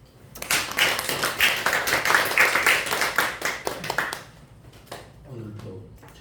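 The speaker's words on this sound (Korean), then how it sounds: "박수." Church congregation clapping during a Sunday worship service, a burst of hand claps that rises quickly, holds for a few seconds and then fades, followed by a voice speaking over a quieter room.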